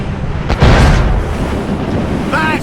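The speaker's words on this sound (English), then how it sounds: "We should fire our mortars, Captain! That's got them!" Naval mortar fire and explosions in a ship battle in Assassin's Creed Rogue: a loud, broad boom and rumble that swells briefly, then a dense, windy roar of sea and battle noise, with a thin whistling sweep near the end.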